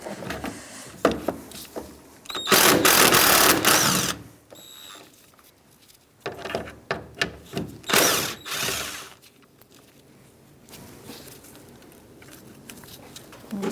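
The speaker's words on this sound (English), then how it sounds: "now we're going to take our hood latch off with 10mm socket." A ratchet with a 10mm socket backs out the hood latch bolts on a 2010-2013 Kia Soul 2.0L during radiator replacement: bursts of quick clicking cranks and metallic clinks, close, with pauses in between.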